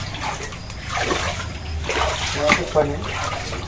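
Dirty drainage floodwater splashes and sloshes inside a flooded house as someone wades through it, with irregular close splashes and trickling under someone talking.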